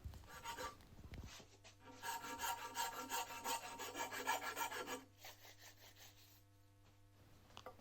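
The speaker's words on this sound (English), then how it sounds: "then proceeded to file very carefully the top surface flat," Hand file rasping weld off the top surface of a Kawasaki Z1 cylinder barrel in rhythmic, close strokes for several seconds, then tapering into faint scraping and near quiet, with no talking.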